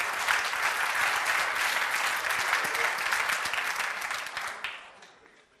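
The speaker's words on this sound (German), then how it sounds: "Ja, lass uns mal klatschen dafür." Congregation at a church service breaking into sustained applause, a dense wash of many hands clapping steadily before fading out toward the end.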